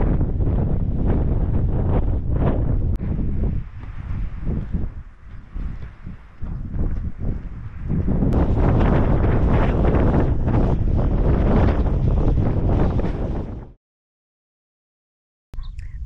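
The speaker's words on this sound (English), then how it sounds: "It's a windy day." Strong wind buffets the microphone on a stormy day at a pole barn build site, a loud roaring rumble that holds for about fourteen seconds, cuts to near silence, then returns briefly.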